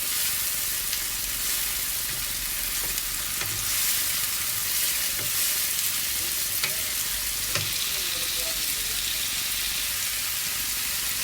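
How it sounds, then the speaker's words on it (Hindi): Ginger garlic paste frying with cooked onions in a pan for egg malai masala, giving a steady, dense sizzle with occasional soft stirring scrapes and clicks throughout, close and continuous with no talking. "प्याज हमारा पक गया था तो हमने अदरक लहसुन का पेस्ट डाल दिया है।"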